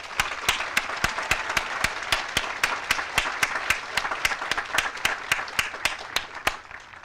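A crowd at a military cadet graduation ceremony applauds with steady clapping and regular sharp claps standing out throughout, fairly distant and continuous.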